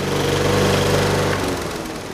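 A Brill Hattrick lawn mower with built-in scarifier runs steadily close by, a loud continuous engine drone with a buzzing whirr that eases slightly toward the end, no voices.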